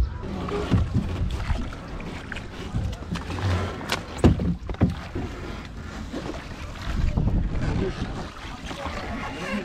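Water sloshes and wind buffets the microphone as a small boat crosses water near Dalyan, with people talking intermittently over the noise.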